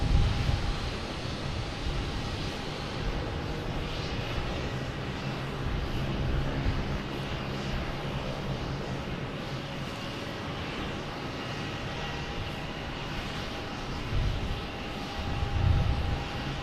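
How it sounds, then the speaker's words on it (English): Lufthansa airliner taking off from runway 4 right at Boston Logan Airport, a steady broad jet roar heard from a distance that holds evenly throughout, with gusts of wind buffeting the microphone. "Air France is second to take off, so Lufthansa has beat Air France to runway 4 right."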